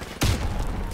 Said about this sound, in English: I tried to throw the grenade.